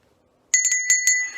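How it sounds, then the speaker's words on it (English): A secondhand bell bought at a thrift store, rung by a clown: five quick bright rings in a burst, close and loud, the last ring fading into a short shimmering decay. "Got this bell the other day at the Goodwill."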